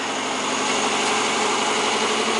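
Car engine running on wood gas from a wood-fired gas generator, a steady close idling drone with even mechanical hum and no speech.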